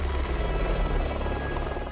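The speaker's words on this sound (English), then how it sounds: "since there are no level areas up here, the helicopter can't land, so we have to jump out while it is hovering" A helicopter hovers over an Alpine mountain summit, its rotor and engine making a loud, steady, continuous drone with a throbbing low pulse close by.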